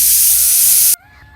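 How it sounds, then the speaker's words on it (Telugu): A pressure cooker vents steam as a loud, close, continuous hiss with a thin whistle tone running through it. The blast cuts off abruptly, leaving a faint lingering tone. "సరిగ్గా అప్పుడే మొదటి విజిల్ వచ్చింది."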